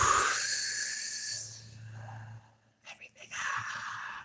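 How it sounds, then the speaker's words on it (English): A long, full exhale at the end of a round of Wim Hof breathing, a steady breathy hiss that fades out, followed by a short pause and then a few softer breaths and rustles, close and quiet. "And then after the 30 breaths in and out, you breathe out all the way."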